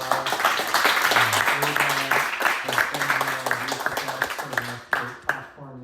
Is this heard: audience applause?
yes